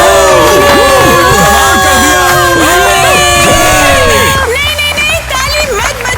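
Children at a school event voting for a school queen cheer, whoop and shout together in a loud excited crowd, with overlapping voices throughout and the noise easing slightly near the end.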